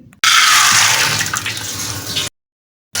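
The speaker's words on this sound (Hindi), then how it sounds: "अब इस पानी समेत हम इसे कुकर में डाल देंगे" Soaked chana dal and its soaking water tipped into a pressure cooker, a loud continuous gushing pour lasting about two seconds, then a brief silence before another splash begins.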